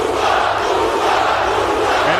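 A Dubai fight crowd roaring and chanting for Usman Nurmagomedov at the start of his bout with Alfie Davis, a loud, dense, continuous wall of cheering voices.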